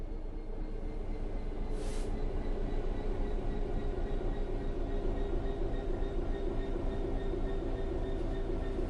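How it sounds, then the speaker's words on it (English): Train Sim World 3 train coasting on level ground with the throttle at zero, a steady low rumble of rolling stock and faint tonal hum, continuous and unchanging, no voices. "The train will then coast on level ground, and the train will only slow down very gradually."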